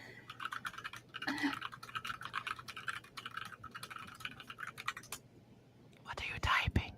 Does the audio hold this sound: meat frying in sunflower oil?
no